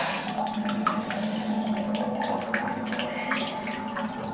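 Water running and gurgling as it drains from a hotel bathroom sink, a steady close wash with faint drips and splashes and no talking.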